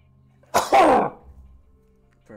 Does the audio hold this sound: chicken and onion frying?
no